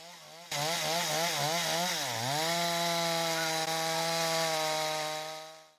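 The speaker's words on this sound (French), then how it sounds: "Bid de Ham à la tronçonneuse est impressionnant." A chainsaw revs up and cuts into wood in Senegal, loud and close, its engine pitch dipping under load and then holding steady as it bites through the timber.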